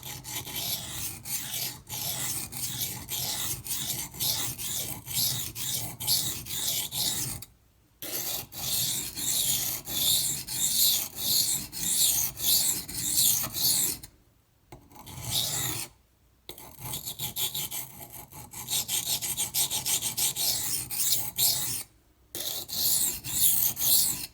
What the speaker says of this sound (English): this particular stone, the Dan's Whetstone aluminum oxide